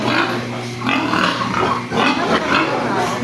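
Pigs on a small farm in Culasi, Antique, grunt steadily and close by, with a broad, continuous, fairly loud texture and no talk in the moment.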